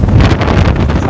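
Wind buffets and roars through the open window of a TNSTC government bus travelling from Trichy to Madurai. It is a steady, loud rushing rumble that lasts throughout.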